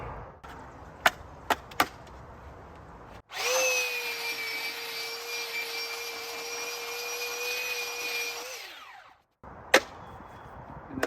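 A power sander fitted with 80 grit sandpaper runs on a butcher block countertop, a steady close whir lasting about five seconds before winding down, with a few sharp knocks before and after.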